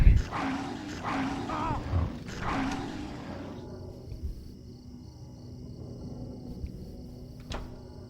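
Dogs in the video game Silent Hill 4: The Room growl and snarl in close, rough bursts over game ambience, then give way to a quieter droning background.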